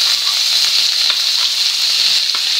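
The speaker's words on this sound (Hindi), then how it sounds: "अब मैं इसमें ये प्याज भी बारीक डाल रही हूँ।" Finely chopped onions, three medium ones, frying in hot oil over a high flame, giving a loud, steady, close sizzling hiss with faint stirring scrapes beneath.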